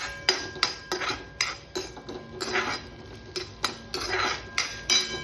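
Ginger and garlic roasting in a pan for Kala mutton, heard as a run of close, sharp metallic clinks and scrapes of a utensil against the pan in uneven bursts, with no talk.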